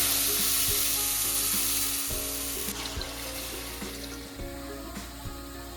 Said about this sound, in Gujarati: ત્યારબાદ હળદર મરચું વાળું પાણી નાખીને ઉકળવા દેવું